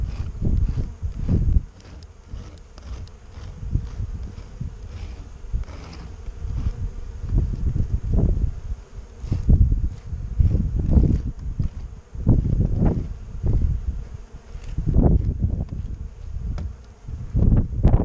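Honey bees swarm and buzz around hives at an apiary during spring hive work, a dense steady hum with individual bees swelling loudly past the microphone in repeated surges, light wind in the background.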